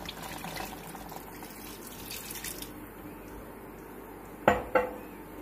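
Water poured into a pot of keema karela (minced meat with bitter gourd) on a home stove, a soft steady splash and trickle followed by two sharp clinks of metal on the pot near the end.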